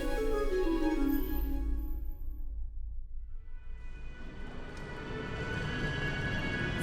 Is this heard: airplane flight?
yes